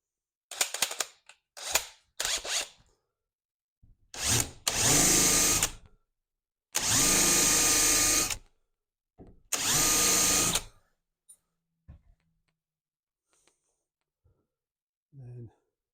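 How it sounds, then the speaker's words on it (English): Power drill boring and countersinking pilot holes for a model train layout command station, several short bursts then longer whining runs of a few seconds each, close and loud, separated by silent pauses. "couple of pilot holes. We just countersink those."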